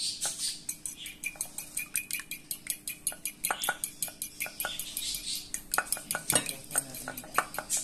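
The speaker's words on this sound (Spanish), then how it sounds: "Pero hemos puesto un poco de sal y ahora batimos" Eggs with salt whisked briskly in a bowl, a fork or whisk clinking against the sides in a fast, steady rhythm of sharp metallic ticks, close up with no talking.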